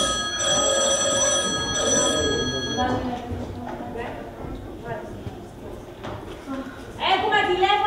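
Telephone ringing during a Clean Monday carnival show: a bright ringing tone heard through the first few seconds, with talk and crowd noise continuing after it.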